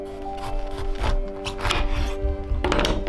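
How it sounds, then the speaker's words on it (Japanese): A knife halves a bitter melon (goya) on a cutting board, giving several dull chopping thunks and scraping taps close by, spread irregularly across the moment. "ゴーヤ半分に切ります"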